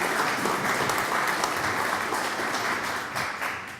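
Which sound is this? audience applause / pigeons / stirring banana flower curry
audience applause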